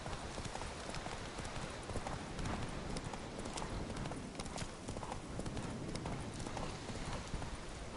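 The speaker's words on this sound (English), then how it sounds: "Not so fast, Roach" Horse hooves clip-clopping steadily in The Witcher video game, a quick even trot with a brief whinny, heard faintly alongside game ambience.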